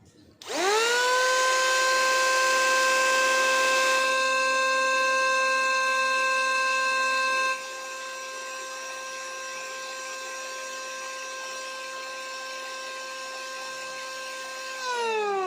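A Modern M9 cordless battery-powered wood planer spins up to full speed and holds a loud, steady high-pitched whine, its pitch dropping slightly midway before winding down at the end.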